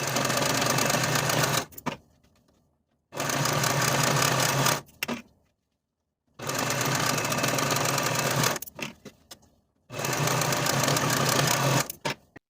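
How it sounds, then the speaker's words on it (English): Serger finishes the center back fabric edges of a dress in four loud, fast-humming bursts of stitching, each a few seconds long, separated by short near-silent pauses. "Now we'll take those center back edges to the serger, or you can use a zigzag stitch to finish those edges."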